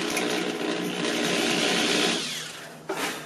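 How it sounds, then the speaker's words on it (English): A power drill whirs steadily into wood, boring small holes in a toy truck, loud and close, then winds down, followed by a brief second burst. "I'm just going to be drilling two little holes"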